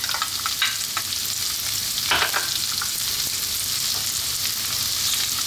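Chopped onion frying in a pan for vegetable spring rolls, a steady close sizzle with occasional stirring scrapes throughout.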